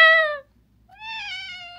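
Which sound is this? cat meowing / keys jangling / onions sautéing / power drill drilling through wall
cat meowing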